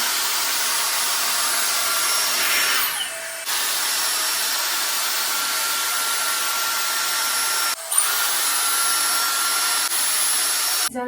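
Dyson Airstrait hair straightener-dryer blowing a steady, loud stream of air close by, with brief dips around three and eight seconds and a click near the end.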